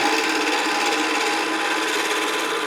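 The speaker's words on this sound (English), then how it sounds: "roughing this out and getting it started. But it is a bowl gouge, and this is 1/2 inch" A 1/2 inch bowl gouge roughing out a wooden bowl on a lathe, giving a continuous loud, harsh scraping hiss of the cutting edge against spinning wood, steady and close with no talking.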